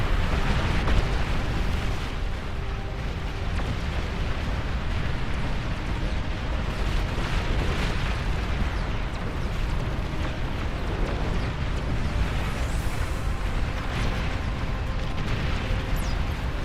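Massed unit fire and explosions from a large real-time strategy battle in Beyond All Reason, a dense, continuous roar of booms and blasts with no pauses.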